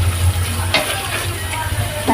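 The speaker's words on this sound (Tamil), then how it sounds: "கொஞ்சம் வதங்கிடுச்சுங்க இஞ்சி பூண்டு பேஸ்ட்டு." Ginger garlic paste sizzles steadily in a hot pan while being sautéed for tomato rice, with a spoon scraping through it once or twice.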